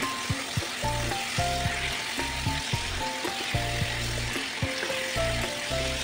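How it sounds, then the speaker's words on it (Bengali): Turmeric and cumin powder fry in hot oil in a pan, giving a dense, continuous sizzle with occasional stirring knocks under soft background music. "এটাও কিন্তু ভাজতে থাকবো।"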